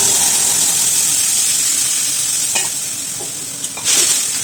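Whole cumin, bay leaf, ginger and green chilli sizzle and fry in hot oil in a pan, a loud continuous hiss with a few scraping stirs near the end.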